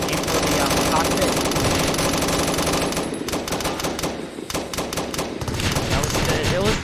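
Rapid automatic gunfire rattles almost without pause in the Roblox military shooter BRM5, with dense bursts of shots up close and a brief easing midway.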